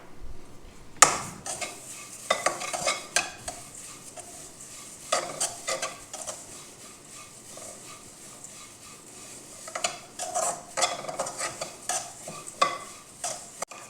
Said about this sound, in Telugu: కొంచెం ఆయిల్ వేసుకుందాం వీటిని కూడా బాగా వేపేద్దాం